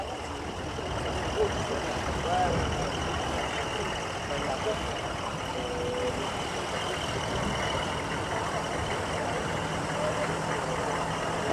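A large vehicle engine idles nearby, giving a steady low rumble and hum that runs unchanged throughout, with people talking faintly over it.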